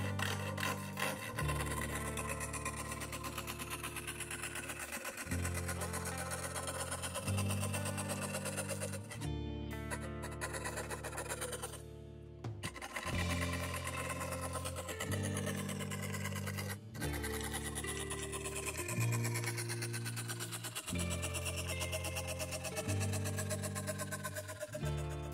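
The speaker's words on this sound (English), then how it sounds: "Now use a coping saw to saw the knife out." A hand coping saw cuts a knife shape out of wood, a steady rhythmic rasping of back-and-forth strokes running continuously and close, with a brief pause midway and no speech.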